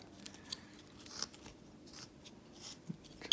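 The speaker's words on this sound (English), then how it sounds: "slice towards that stop cut" A knife shaving wood while whittling a Santa Claus figure, with soft, scraping slices cut toward a stop cut, faint and close, in short strokes across a quiet background.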